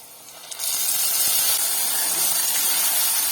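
Ground tomato from two medium tomatoes hits a hot pan for a kuzhambu, giving a sudden loud sizzle that holds as a steady, close hiss.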